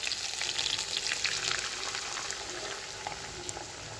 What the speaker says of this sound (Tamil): முட்டையை சேர்த்துட்டு நம்ம அப்படியே மிக்ஸ் பண்ணி விட்டுக்கலாம் நல்லா கொஞ்சம் ஃப்ரை ஆகி வந்துடட்டும்